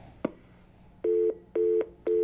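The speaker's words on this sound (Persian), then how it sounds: "تلفن شو قطع شد." A telephone line cuts off with a click followed by three evenly spaced busy-signal beeps, clear and close, with no talk over them.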